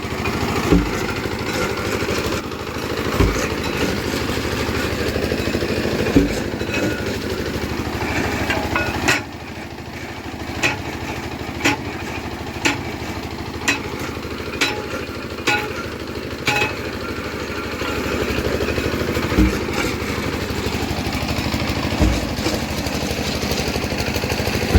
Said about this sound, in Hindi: इसमें सिंगल ही बंदा जो मशीन ऑपरेट कर रहे हैं भाई, और माशाल्लाह लगातार बोकी चल रही है ऊपर और नीचे।